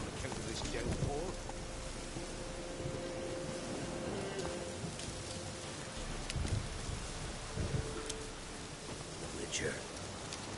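Steady heavy rain hisses throughout a video game scene in The Witcher 3, broad and constant, with faint scattered knocks and distant sounds beneath.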